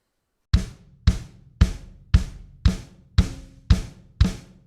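A drum set played at 115 bpm, with the snare struck by the left hand on beats two and four; eight evenly spaced, punchy hits ring out close and alone, each decaying quickly into the next.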